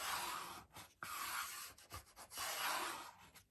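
Paper being burnished for a handmade Memorydex box gives a dry, close rubbing rasp in repeated strokes, loud and alone with brief pauses between passes.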